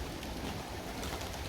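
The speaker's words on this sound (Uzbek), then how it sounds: "Mana etaj bo'lib chiqib ketdi kaptarlar." A large flock of domestic pigeons, hundreds kept at one household, takes off in tiers. Their wings make a dense, steady whirring flutter that fills the whole moment with no talk.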